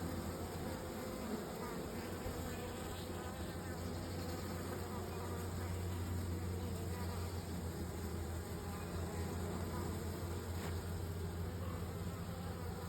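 A large swarm of honeybees buzzes in a dense, continuous drone from many wings, holding steady and full throughout with no pauses and no voices.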